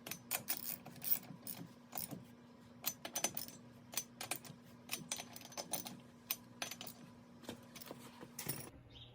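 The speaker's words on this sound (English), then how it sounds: "tighten those lug nuts as much as you can by hand" Lug nuts are hand-tightened on a five-bolt wheel, giving a quiet, irregular run of metallic clicks, ratcheting and clinks that repeats steadily over a faint hum.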